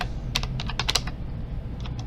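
Fingers type on a sticky backlit computer keyboard in a quick irregular run of clacking keystrokes, close up over a constant low background hum, with no talk.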